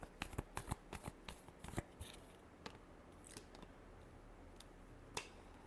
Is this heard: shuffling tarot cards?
yes